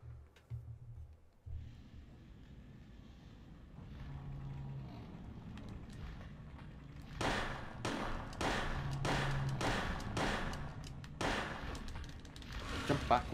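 Gunshots in Silent Hill as Harry fires at a lizard creature. After a quiet, rumbling stretch, about seven sharp bangs ring out in quick succession, some closely paired, with a voice talking faintly at times.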